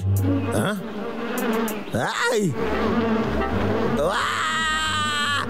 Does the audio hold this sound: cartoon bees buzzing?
yes